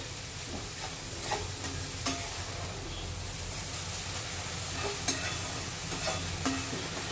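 Carrots and sugar being stirred in ghee for carrot halwa, with a steady soft sizzle and intermittent scraping stir strokes in the pan, close and moderately quiet, with no talking.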